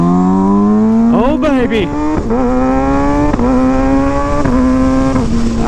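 Kawasaki ZX-6R sportbike with loud aftermarket pipes revs hard nearby, its engine climbing and dropping through several sharp blips and sustained high-pitched wails, while a voice exclaims briefly over it.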